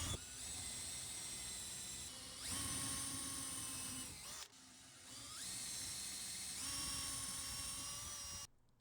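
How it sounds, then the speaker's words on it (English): Power drill boring shelf pin holes in cabinet sides through a clamped drilling jig, bit set to depth with painter's tape; a steady high whine runs in two long bursts, briefly dropping between them, loud and close with no talk. "Then we clamp the jig down and go to town drilling all the holes."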